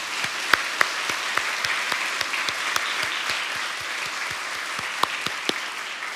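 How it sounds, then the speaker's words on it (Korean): A church congregation at a Sunday afternoon worship service in Seoul clapping together: a dense wash of applause punctuated by distinct individual claps, fairly close and steady throughout. "우리 하나님 앞에 박수 한번 해야지."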